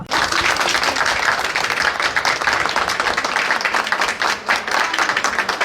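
A crowd claps steadily and densely throughout, a sustained round of applause at close range with no pauses, after a hospital rescue where a doctor and nurse helped an accident victim.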